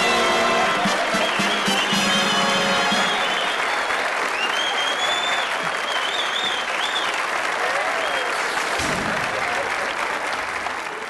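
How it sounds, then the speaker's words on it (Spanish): A stage comedy audience applauds a guest's welcome with a strong, sustained burst of clapping from many hands, loud and even throughout, mixed with some crowd noise and a brief voice near the end. "Así que recibamos con un fuerte aplauso"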